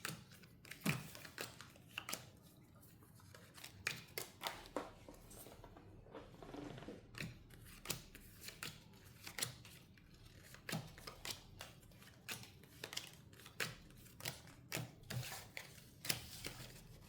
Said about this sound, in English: Get these cards shuffled real quick